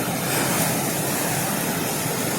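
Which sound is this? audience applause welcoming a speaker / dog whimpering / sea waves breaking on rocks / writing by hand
sea waves breaking on rocks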